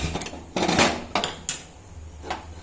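A frying pan set down on a gas stove while Veg Manchurian is being cooked, giving a few sharp metallic clanks and knocks at irregular intervals, close by with no voices.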